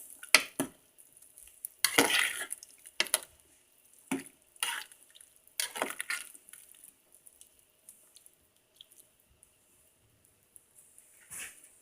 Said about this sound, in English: I'm gonna add this to the soup and mix it together.